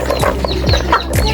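Farmyard chickens cluck close by while grain is scattered for them, a run of short, loud, overlapping clucks and calls with no one speaking.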